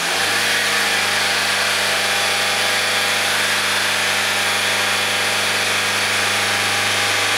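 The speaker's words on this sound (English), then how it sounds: "Keep engine above 3000 RPM." A 2005 Honda CR-V engine held above 3000 RPM, a loud, steady, continuous hum with a constant pitch throughout.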